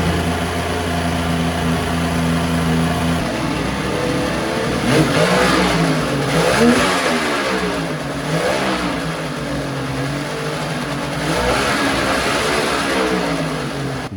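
A 3-cylinder Volvo Penta engine runs with a leaking exhaust, opening from a steady idle into rough, uneven revving with a raspy, chuffing exhaust note. It sounds loud and close, and no one speaks.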